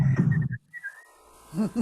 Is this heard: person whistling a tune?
yes